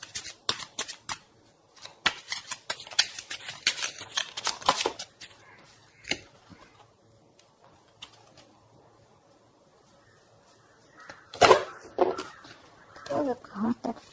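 Tarot cards shuffled and handled at close range, heard as irregular crisp riffling bursts that cluster early, then a long lull before more card sounds return. Some quiet talking is also present.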